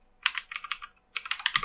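Keys clatter on a computer keyboard in two quick bursts of typing separated by a short pause, close and crisp with no voices.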